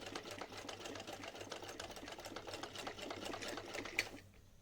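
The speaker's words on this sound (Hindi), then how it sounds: "इस तरह से मशीन में दाबते हुए इसमें सिलाई करेंगे" A sewing machine runs steadily for several seconds, stitching a small dhoti for a Laddu Gopal idol, then stops abruptly near the end, heard up close with no talk.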